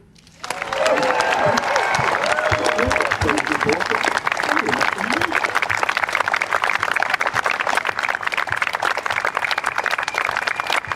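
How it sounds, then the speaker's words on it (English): A golf crowd applauds the 2024 AIG Women's Open champion Lydia Ko at a Scottish course, sustained and fairly loud clapping that builds after a quiet start and continues, with an announcer's voice over the opening seconds. "Lovely golf claps. More than golf claps, actually."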